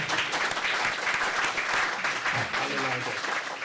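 An academic event audience breaks into dense, sustained applause that fills the room evenly, with a few voices murmuring beneath the clapping.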